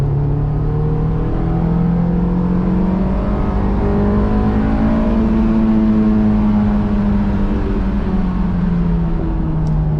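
Honda S2000 engine pulling hard under full acceleration, its steady loud drone climbing in pitch as revs rise over ten seconds, close and continuous with no talk.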